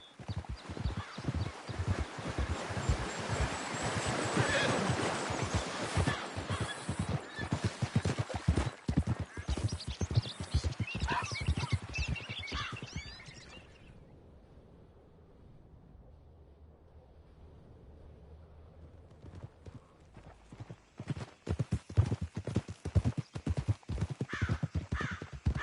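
Horse hooves clip-clopping steadily in the Red Dead video game, close and rhythmic, pausing for a quiet stretch before resuming; crows caw in the background.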